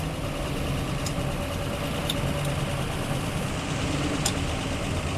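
The engine of a 1977 Land Rover 109 idles steadily at a stop light, a constant close rumble with road and cabin noise and no talk.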